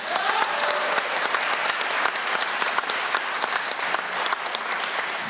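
A large forum audience applauds the federal election candidates in Calgary Northwest, a dense, steady wash of many hands clapping that carries on evenly throughout with no talk over it.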